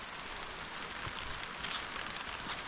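Rain falls as a faint, steady patter and hiss that stays even throughout, heard alone without any voices.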